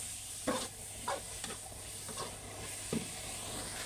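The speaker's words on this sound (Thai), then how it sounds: "เราใส่หมูสามชั้นเลยนะครับใส่ไปพวกหมูสามชั้นให้หอมเลยนะทุกคน" Pork belly fries with garlic in a pan, a steady soft sizzle with a few scraping stirs spaced through it, close and moderately quiet.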